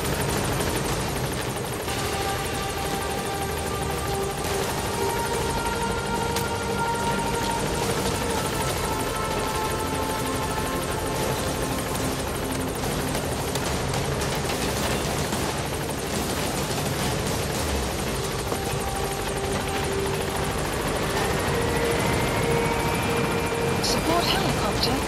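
Support helicopter arriving in Metal Gear Solid V, a steady, loud rotor and engine drone running continuously with layered game sounds and faint tonal music over it.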